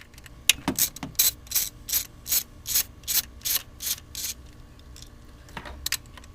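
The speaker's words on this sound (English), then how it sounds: "You need a 10mm socket and a ratchet. Go ahead and remove the bolt holding the coil packs in." Hand ratchet fitted with a 10mm socket loosening the coil pack bolts on a Scion xB, clicking in a steady series of about a dozen close, even strokes.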